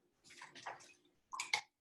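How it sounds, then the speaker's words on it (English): A paintbrush is dipped and swished in a water pot in two quick splashy bursts, with a short pause between them, in a quiet room with no talking. "moisten my paintbrush"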